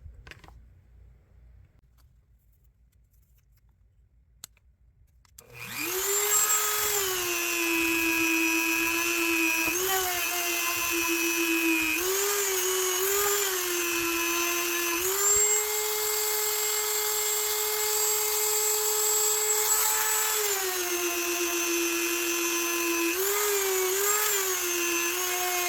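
After a few quiet seconds, a high-pitched rotary tool spins up and whines steadily while polishing the blade of a vintage Schrade Walden Model 204 electrician's knife with rubbing compound. The pitch wavers slightly as pressure on the blade changes.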